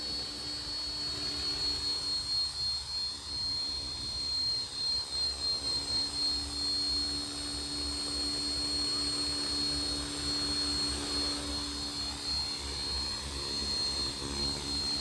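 Radio-controlled helicopters, an OMPHobby M2 EVO and a Trex 450, fly outdoors, giving a steady high-pitched motor whine with a faint pulsing rotor wash, at moderate distance and without talk.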